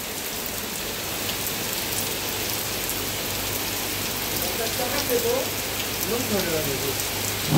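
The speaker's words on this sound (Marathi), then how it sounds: "जोरात पाऊस चालू झालाय" Heavy rain pours down steadily under a dark, cloudy sky, a dense continuous hiss of drops on surfaces, with faint indistinct voices briefly audible near the end.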